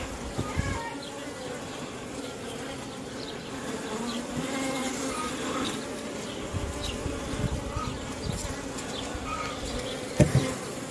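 Carpathian honeybees hum in a steady, dense drone around an open hive, with brief louder buzzes as individual bees pass near, and no talking.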